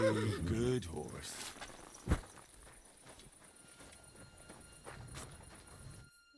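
Horse hooves clopping at a walk in the medieval video game Kingdom Come Deliverance II, soft and steady, with a brief snort or whinny at the start, a louder thud, and game ambience behind.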